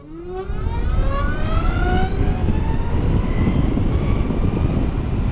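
A Zero SRS electric motorcycle pulls away at full throttle in cold weather, its motor whine rising steadily in pitch over a loud, continuous rushing roar close to the microphone.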